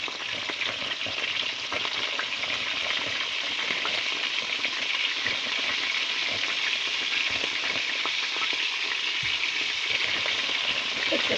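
Salt and pepper squid frying in a pan, a steady, loud sizzle that runs unbroken from start to finish with crackling spatter and occasional stirring clatter, no voices.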